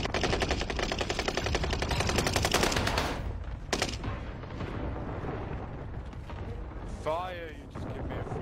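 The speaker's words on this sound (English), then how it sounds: "I thought I heard shooting." Rapid automatic gunfire in the Warzone video game, a dense loud burst of rattling shots for about three seconds, then scattered reports and game sounds, with a voice talking over parts of it.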